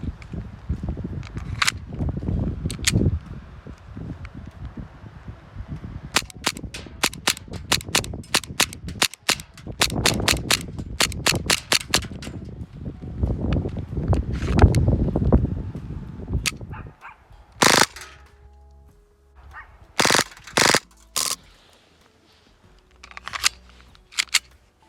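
An Umarex Elite Force Beretta M92A1 airsoft pistol fires rapid bursts on full auto: dense, crackling strings of snapping shots broken by short pauses, then a few separate sharp bursts near the end, loud and close.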